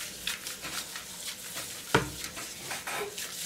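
Paper raffle tickets stirred by hand in a basket at a prize draw, a quiet, continuous papery rustling and shuffling with one sharper knock partway through, no talking over it.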